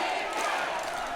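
A large crowd at a rally outside the Chungbuk provincial office roars and cheers in a steady, dense wash of voices.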